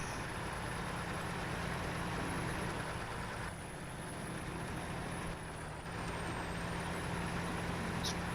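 Steady engine drone of a modded truck driving in the off-road game SnowRunner, a continuous even rumble with a high whine held throughout and no talking.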